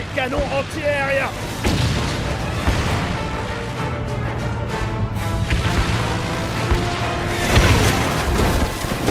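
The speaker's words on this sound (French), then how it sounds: "Des canons anti-aériens!" Repeated booming bursts of anti-aircraft cannon fire in an animated cartoon crash amid a loud, chaotic mix of rumbling and noise, with voices briefly audible.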